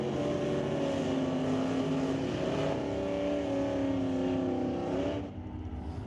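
A Dodge Dakota pickup truck and a small block Chevy car drag racing in a stock and super stock race, one steady loud engine roar holding for about five seconds before cutting off abruptly.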